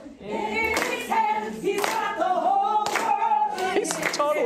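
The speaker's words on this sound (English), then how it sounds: "Is it just me, or is he unable to clap on beat?" A man claps along to music at a performance, several spaced hand claps landing off the beat over a sustained sung melody, fairly close and prominent.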